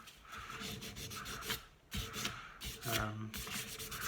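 Dremel rotary tool with an 80-grit sandpaper bit sanding a golf club shafthead grip, a close, continuous rough rubbing and grinding with short pauses and changes in pressure.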